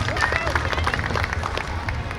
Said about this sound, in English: round of applause for our support staff there.